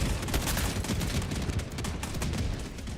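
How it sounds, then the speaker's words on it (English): Dense video game battle with rapid bursts of gunfire and booming explosions overlapping continuously, loud and close, with no talk. "Do you see all the explosions going on?"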